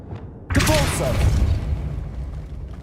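A Depulso spell cast in Hogwarts Legacy: a sudden loud magical burst with a thumping boom and whooshing tail that fades over a couple of seconds, preceded by a brief voice.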